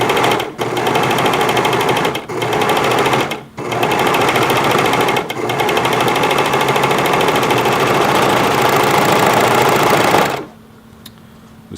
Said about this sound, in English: The Serger has a 1-amp motor in it, which helps it.